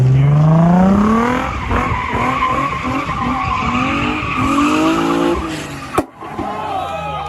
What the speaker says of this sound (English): And that's a tire popping